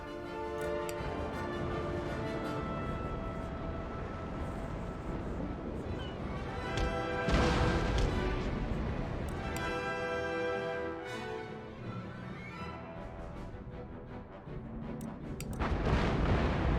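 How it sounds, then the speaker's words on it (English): Cannon fire and explosions from an Empire: Total War naval fleet battle form a dense, continuous rumble, with heavier booming blasts near the middle and again at the end. "gotta watch out for those explosions. Certainly do a lot of damage."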